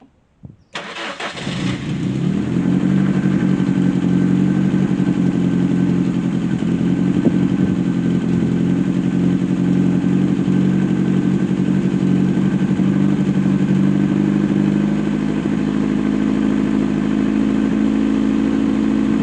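A Lotus Excel engine is choked and cranked, catching after a brief start and settling into a loud, steady idle that runs on alone without a break.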